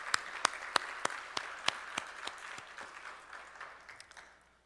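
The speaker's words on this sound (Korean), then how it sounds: "우리 주님께 영광의 박수." A church congregation claps during a Sunday worship service, a sparse, fairly slow round of individual sharp claps that thins out and fades over a few seconds, heard at moderate distance with no talking.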